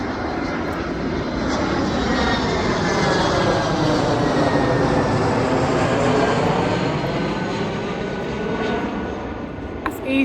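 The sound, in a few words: EasyJet airliner flying over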